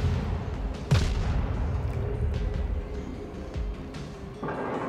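A single heavy warship gun blast booms early on in World of Warships, over a steady rumble of engine noise and distant battle sounds, with a fainter thud later.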